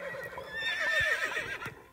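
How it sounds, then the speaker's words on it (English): Horses in a horse-life video game give a loud, close whinny lasting about two seconds, a rising and falling neigh with faint hoof clops underneath. "Stop neighing, guys."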